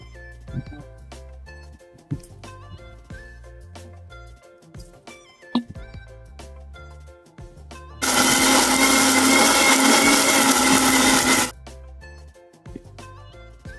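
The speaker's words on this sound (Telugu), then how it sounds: "దీన్ని మిక్సీ చేసుకుందాం" A mixer grinder blends small cut beetroot pieces in its jar, a loud steady whirring roar that starts abruptly, runs for about three seconds, then cuts off, preceded by quieter kitchen clatter.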